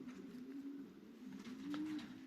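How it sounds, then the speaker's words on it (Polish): A racing pigeon back from a flight coos softly and steadily at a loft, a low, warbling call heard close but quietly over faint background hiss. "gołąbek z lotu przychodzi"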